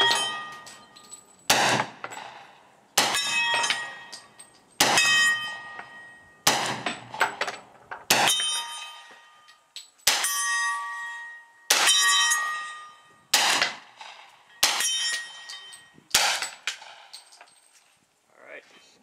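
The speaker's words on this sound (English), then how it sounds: "Okay, I'm gonna try the powder coated boolits in this Estes group." Gunshots from a firearm loaded with powder coated cast lead bullets, fired as a slow series of about a dozen sharp reports at a range, each followed by a decaying ring, with no talk between them.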